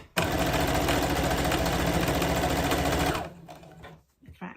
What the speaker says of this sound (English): just sewing down that seam